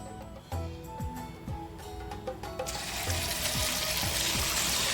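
Small bits of idli-batter bonda dropped into hot oil in a kadai, with a few light clinks and stirring sounds before a steady loud sizzle of frying takes over and holds.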